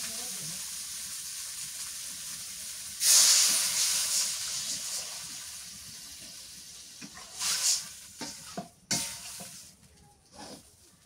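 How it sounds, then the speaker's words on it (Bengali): Water poured into a pan of sizzling stir-fried cauliflower curry bursts into a loud hiss of steam that slowly fades, followed by clattering stirring and utensil knocks up close. "এবার পানি দিয়ে দিই"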